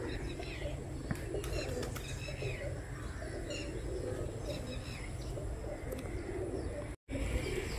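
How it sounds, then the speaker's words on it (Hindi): Pigeons coo softly outdoors amid steady background noise, with scattered chirps and brief wing flaps, faint to moderate and ongoing, and a short dropout near the end. "है कबूतर देखो"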